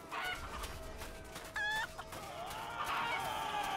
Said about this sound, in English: these godly chickens have voice lines.